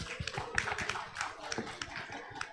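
A workshop audience applauds Pak Rizky with a dense run of quick claps, and voices talk and cheer over them throughout.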